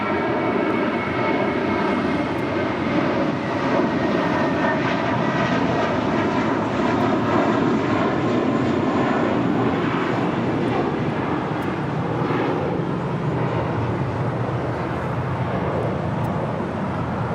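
An airliner's engines roar steadily as it takes off from runway 25 right at Los Angeles International Airport, a loud sustained rumble with whining tones that persists throughout.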